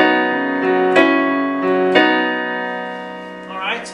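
Solo piano plays a measure from a song: sustained harmonic chords struck about once a second, each with a crisp attack, in a close and clear tone, the last one fading out into a short flourish.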